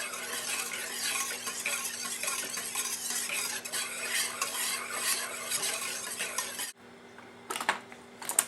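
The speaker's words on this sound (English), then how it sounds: "So whisk that in slowly." Whisk beating sugar into French toast batter with vanilla in a bowl, a steady rapid scraping and clinking that runs continuously, then stops and leaves a few scattered taps at the end.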